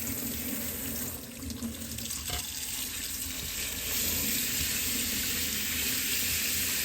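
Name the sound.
running tap water rinsing a DeLonghi Magnifica part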